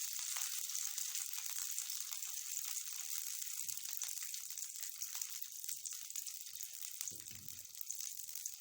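Fenugreek seeds, kalonji and mustard seeds sizzle steadily in about half a cup of hot mustard oil in a pan, a bright continuous crackle with a few soft low knocks, no voices.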